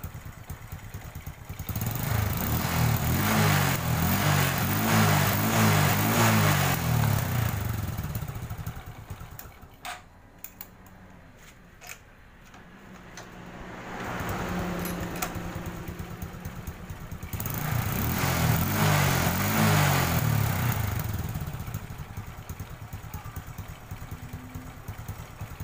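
Honda Supra 125 motorcycle, previously stalling and running rough, kick-started without throttle; the engine rumbles up to a steady idle, dips and sputters briefly midway, then settles back into an even, close-up putter.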